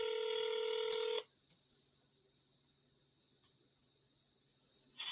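Cell phone dialing or ringback tone: a loud steady tone cuts off abruptly, followed by near silence with faint ticks, then the tone resumes at the end, with no voices.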